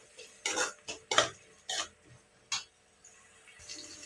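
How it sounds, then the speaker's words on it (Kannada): Onions frying with turmeric powder are stirred in a pan for avarekalu uppittu, with about seven irregular, sharp spatula scrapes and clanks against the metal, close and distinct, separated by brief quiet gaps. "ಸ್ವಲ್ಪ ಹಳದಿ ಪೌಡರು ಹಾಕ್ಕೊಂಡು ಚೆನ್ನಾಗಿ ಫ್ರೈ ಮಾಡ್ಕೊಳ್ಳಿ"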